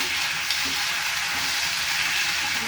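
A ground paste of onion, garlic and green chili fries in hot oil for a chicken and potato curry, giving a loud, steady, close sizzle that holds without a break and has no talk over it.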